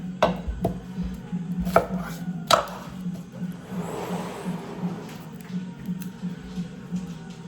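A knife slices an onion on a cutting board, giving a few sharp, distinct chops early on, then softer, irregular cutting sounds, close by and with no talking.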